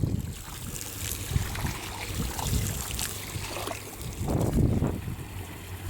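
Garden pond with an air stone and a skimmer running: soft, steady bubbling and trickling water with occasional louder gurgles, fairly close and continuous.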